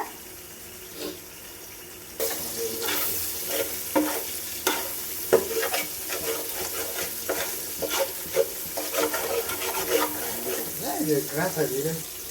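Eggs frying in a hot pan for rice, with steady sizzling broken by repeated scraping and stirring clicks from a spatula, fairly close and moderately loud, and a brief watery rush near the end.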